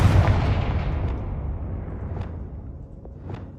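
Confringo fire spell blasts in the Hogwarts Legacy game: a loud booming burst at the start decaying into a rumbling roar, followed by a couple of sharper, fainter cracks near the end.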